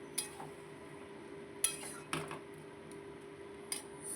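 Cabbage ghonto with fish head being stirred in a pan, heard as a few sharp utensil clinks and scrapes against the metal spaced over a quiet background, with faint sizzling barely present.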